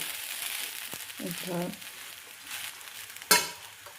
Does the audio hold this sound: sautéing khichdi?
yes